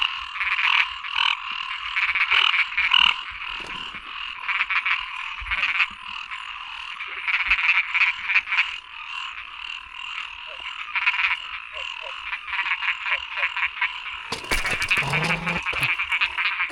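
Frogs and narrow-mouthed frogs croak at night in a dense, continuous chorus of rapid rasping calls, with a brief louder noise burst near the end.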